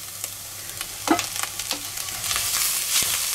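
Pancetta and vegetables frying in a pan for a Bolognese ragù, a soft steady sizzle with a few louder stirring scrapes, close and alone.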